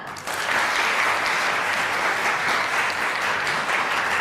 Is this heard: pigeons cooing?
no